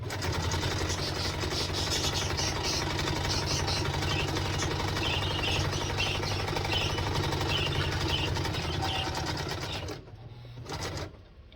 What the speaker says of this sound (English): And then I just sew straight down this crease.